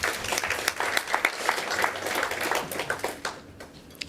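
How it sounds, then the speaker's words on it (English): An audience at a business awards keynote breaks into steady, crowded applause, dense clapping that carries throughout and thins slightly toward the end. "So can we clap for ourselves?"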